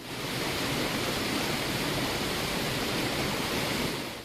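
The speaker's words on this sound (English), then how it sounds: "as well as a waterfall loop." Minecraft's unused waterfall loop plays as a dense, unbroken roar of falling water, a constant full-band rushing hiss at even loudness throughout, with nothing else over it.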